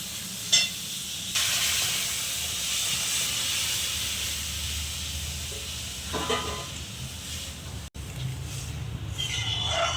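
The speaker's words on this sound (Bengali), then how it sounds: "এবার আমি ডালটা ফোড়ন দেব" Hot spiced oil tempering is poured into cooked dal, setting off a loud, continuous hissing sizzle that holds steady for several seconds, with faint stirring and scraping underneath.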